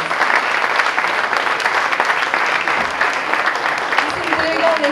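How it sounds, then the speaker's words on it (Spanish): Sustained, dense applause fills a wine awards ceremony hall, a large audience clapping steadily and loudly throughout with a bit of voice mixed in. "Un gran aplauso para todos"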